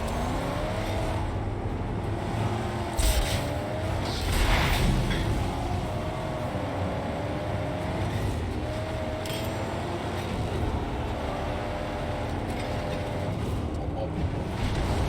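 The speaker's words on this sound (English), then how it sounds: "This car is fucking fast." Fast car engine droning in the Mad Max video game, a continuous loud roar with gear-shift pitch changes and occasional impact thuds, with people talking over it at times.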